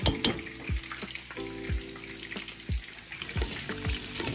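Rice fries in oil infused with garlic and onion, a crackling sizzle punctuated by repeated low thuds and scrapes of stirring, close and moderately loud with no talking.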